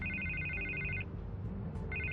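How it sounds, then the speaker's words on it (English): A telephone rings in the Batman Telltale Series game, Season 1 Episode 3: two bursts of electronic trilling, the first about a second long and the second starting near the end, set over a low, steady game ambience. "I can't get the phone to stop ringing"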